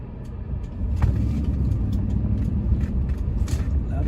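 Bentley Turbo R with a 6.75-litre turbocharged V8 pulling up a steep hill, a steady low engine rumble under load that holds fairly loud and even from start to finish.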